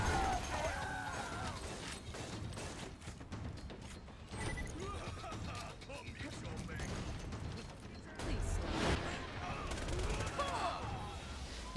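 Rapid automatic weapon fire from a Borderlands 2 game, a dense stream of shots with mechanical clatter running through the whole stretch, loudest near the end, with a voice talking over it.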